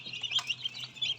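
A newly hatched duckling in an egg incubator gives rapid, thin, high chirps over a steady low machine hum.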